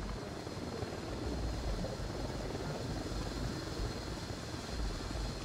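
A helicopter's steady rotor thrum and engine roar in the video game Ghost Recon Wildlands fill the whole stretch, constant and fairly distant, with no voices.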